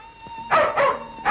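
A dog barks three times in quick succession, loud and close, with short pauses between the barks.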